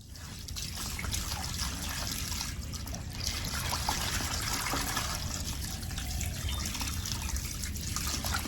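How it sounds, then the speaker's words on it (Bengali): Water trickles and splashes softly at the water's edge as fish is rinsed, a faint, uneven stream of dribbling and sloshing with no talking. "আমি মাছটা ধুয়ে নিই জলের পাড়ে চলে এসেছি"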